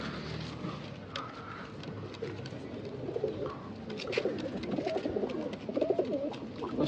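A pair of Sabja pigeons in a loft in Bangalore coo in soft, repeated throaty burbles, close by and continuous, with other birds faintly in the background.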